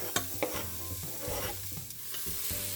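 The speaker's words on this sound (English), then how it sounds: "We're gonna let them sizzle away until they're nice and transparent" Onions sizzle in olive oil in a Breville Fast Slow Pro pressure cooker, a steady frying hiss with stirring scrapes and a couple of sharp clanks near the start.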